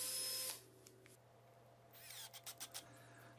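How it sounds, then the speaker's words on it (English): A power drill pre-drilling holes in MDF, a loud whirring burst cutting off abruptly, then a quiet pause before a series of short pulsing revs and whines. "For this, you're really gonna need a power drill"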